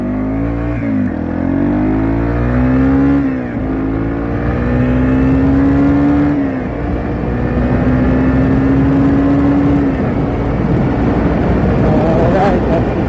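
A Yamaha TW200 motorcycle accelerating up to 55 mph, its engine note climbing through several gears with brief dips at each shift, loud and close with rushing wind noise underneath.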